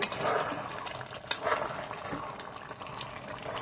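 Egg and potato korma with ghee being stirred in a pot: a wet, bubbling simmer with soft sloshing and a sharp clink of a utensil against the pot, close up, no voices.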